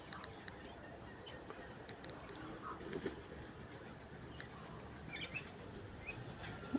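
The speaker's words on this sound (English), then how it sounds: "I had to come out here and sort those pigeons out." Pigeons and cockatoos call in a front yard, scattered chirps and short calls rising faintly over a steady, noisy outdoor background, with a few brief fluttering sounds.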